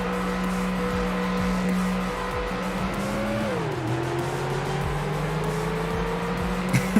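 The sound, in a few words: Ford Explorer race cars driving, from the video game Ford Racing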